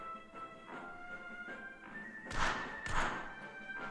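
Two dull slaps land about half a second apart during a high five in a VR game, under a faint steady hum, with no speech.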